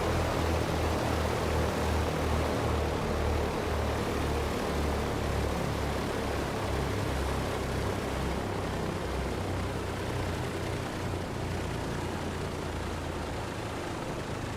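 Twin radial engines of a Douglas DC-3 in the flight simulator MSFS 2020, throttled back toward idle, giving a steady low rumbling drone with a rough, throbbing pulse throughout.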